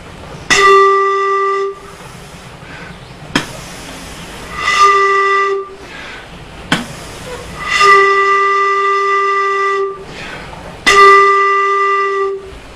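A pan flute sounds four separate sustained tones, each with a sharp tongued attack, and clear silent gaps fall between the notes.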